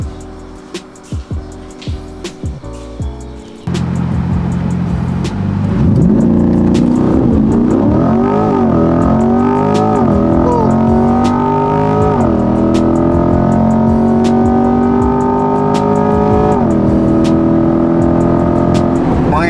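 A C8 Corvette fitted with a Halltech Hornet cold air intake revs and accelerates hard, its engine note climbing through repeated gear pulls, loud and close from inside the car after a few brief knocks at the start.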